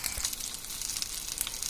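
Oil-brushed chicken gola kebabs frying, a gentle steady hiss of sizzling oil with scattered small pops and crackles, close but low in level, no talking.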